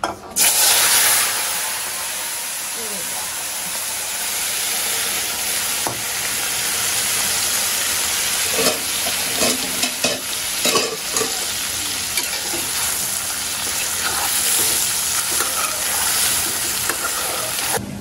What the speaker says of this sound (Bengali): এখন মাছ দিয়ে দিব, মাছটা ভাজবো